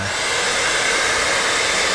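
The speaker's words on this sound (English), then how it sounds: "You definitely want to break out the hairdryer." A hair dryer blows steadily with a constant, breathy whoosh, close and unbroken for the whole moment.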